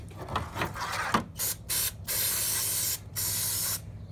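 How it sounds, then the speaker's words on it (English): Brake parts cleaner hisses from an aerosol can onto the outside of a 1997 Honda CR250R carburetor in several sharp, close bursts of varying length, separated by brief pauses. "I want to start off by spraying some brake parts cleaner all over the outside"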